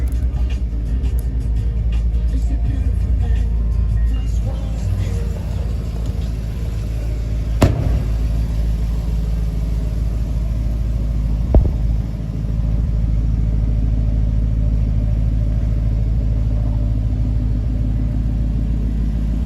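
Deep, steady rumble of a 2013 Jaguar XFR's supercharged V8 at idle, low and smooth for the whole stretch, with a couple of faint clicks partway through.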